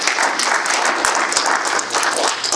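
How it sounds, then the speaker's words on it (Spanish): A church congregation claps and cheers loudly and steadily, a dense wall of applause from a full room that holds through the whole stretch. "Dale palmas al Rey"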